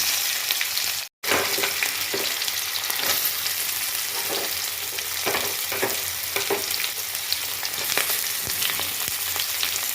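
Dried red chillies and chopped onions frying in hot oil with a bit of sugar, a steady loud sizzle with occasional stirring scrapes and a brief silent gap early on.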